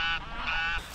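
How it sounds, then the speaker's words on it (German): Geese honk from a distance near a beach in Greece: a short burst of two or three nasal honks, clear but not close, with no talking. "Man hört die Gänse bis hier."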